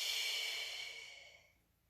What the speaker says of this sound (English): Nice deep inhale and exhale.